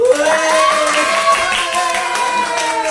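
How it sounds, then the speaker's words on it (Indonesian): A classroom of students applauds a classmate named Basit: a short burst of steady group clapping, with a sustained tonal voice or hum running over it. "Masih tepuk tangan buat Basit"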